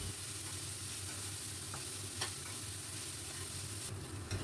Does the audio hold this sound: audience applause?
no